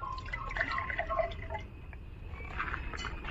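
Tender coconut water being poured into a cup, a steady liquid trickle with light drips against the container, close and fairly quiet, with no talking.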